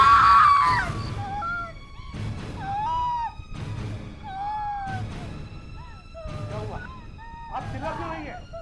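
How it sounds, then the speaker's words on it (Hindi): Repeated shrill screams from a frightened woman in a crime drama scene, several sharp cries in quick succession, loud and close, with other voices speaking around them. "आप चिल्ला क्यों रही हैं?"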